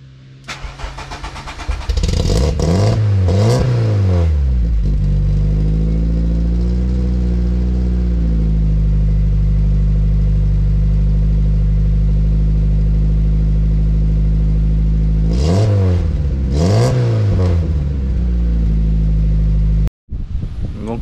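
A Volkswagen Golf 2 with a 1600 engine cranks and catches, then settles into a loud, steady idle with two sharp revs near the start and two more later, up close with no talking.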